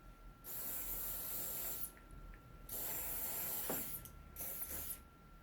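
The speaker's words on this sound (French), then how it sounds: "Hop, un spray de finition." Finishing hairspray sprayed onto styled hair, three long close hissing bursts separated by short pauses, with no talk.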